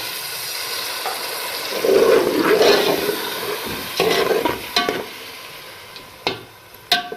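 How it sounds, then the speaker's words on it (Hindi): Water poured into a pan of softened tomatoes while making karela chicken, a hissing, bubbling sizzle that swells for a couple of seconds, followed by scattered clinks and stirring sounds. "अब हम इसमें डाल देंगे पानी।"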